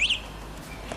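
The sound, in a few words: electric bike alarm going off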